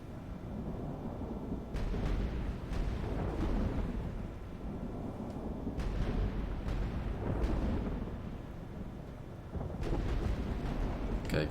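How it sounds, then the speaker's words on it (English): Mortar fire in a Warhammer fantasy battle video game pounds a gate, with a continuous rumble of deep booms and repeated sharp blasts, loud and dense with no talk. "let's blow open this gate."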